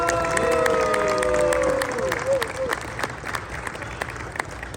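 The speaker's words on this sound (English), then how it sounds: "Let's give a round of applause for David for his leadership" An audience applauds during a political visit to a steel company, with a dense burst of clapping that starts strong and gradually thins out, while a voice briefly rises over it.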